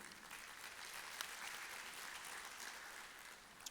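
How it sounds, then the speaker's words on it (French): A ministry gathering breaks into steady, dense applause for the SG, a continuous wash of many clapping hands that stays fairly faint and even throughout, with no voices standing out. "Je voulais que vous l'applaudissiez"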